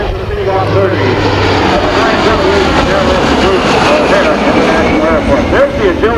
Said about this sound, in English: Here's the C-130.